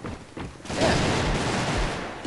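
Bursts of gunfire from the online shooter game AVA, a dense sustained volley of shots lasting most of the moment, loud and close with no talk over it.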